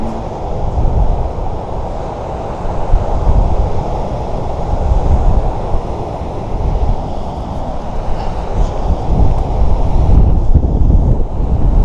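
Loud, continuous wind buffeting the microphone with a low roar of Baltic Sea waves underneath, on the Curonian Spit in autumn, steady throughout with no voices.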